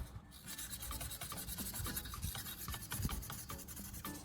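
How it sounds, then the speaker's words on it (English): Wet 1000-grit sandpaper rubs gently over a plastic-welded eyeglass frame repair in quick, close, rhythmic back-and-forth rasping strokes, soft but even, with no voices. "Wet 1000 grit sandpaper with water and polish the repair gently."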